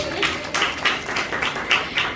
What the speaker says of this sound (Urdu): تالیاں بجا دیں اس بیٹی کے لیے